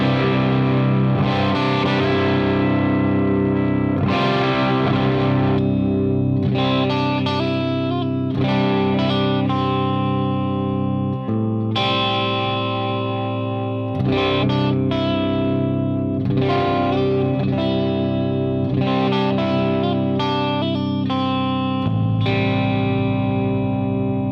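A guitar in an alternate tuning rings through distortion and chorus-like effects, a loud, sustained stream of heavy chords and notes played in phrases with brief breaks between them, with no voices.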